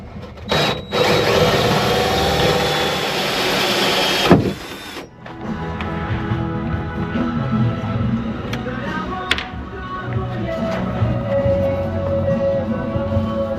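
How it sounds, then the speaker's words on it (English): A power drill whines loudly and steadily for about four seconds, then stops, followed by quieter workshop clatter and handling noises, during a Raymarine wheel pilot installation on a boat. "I'm going to basically mark that and drill that out"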